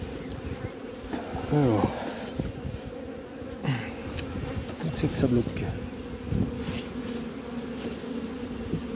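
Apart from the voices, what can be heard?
honeybees buzzing around an open beehive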